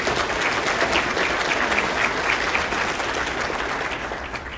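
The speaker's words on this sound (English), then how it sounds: "so let's give them a quick round of applause." Audience applause fills a civic State of the City event in Guelph, a dense steady clapping from a large crowd that holds throughout and fades slightly at the end.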